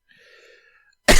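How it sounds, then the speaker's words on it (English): A single sharp, loud cough bursting close to the microphone at the very end, after near silence with a faint murmur. "Cough right in your ear."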